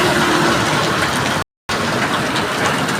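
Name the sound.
heavy rain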